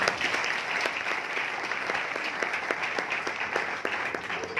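Steady audience applause at a gathering in Hansi, a sustained patter of many hands clapping, moderately distant and even in level, with scattered sharper claps standing out.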